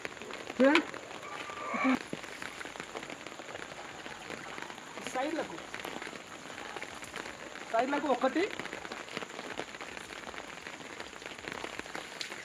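Water splashes and trickles steadily onto the soil and leaves of backyard garden plants, with a few soft drips, while someone talks nearby.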